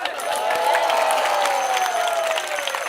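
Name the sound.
audience applause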